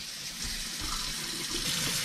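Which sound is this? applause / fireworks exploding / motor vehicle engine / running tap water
running tap water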